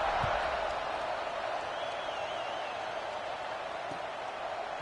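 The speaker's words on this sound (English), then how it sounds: "this crowd is buzzing after that last score" Stadium crowd at a football game buzzes steadily after a scoring drive, a broad distant roar with faint applause that holds throughout and fades slightly toward the end.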